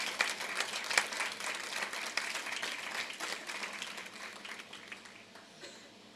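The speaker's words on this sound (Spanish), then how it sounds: "Denle un aplauso al Señor" A church congregation applauds in a sustained, fairly even burst of many hands clapping that gradually fades over a few seconds.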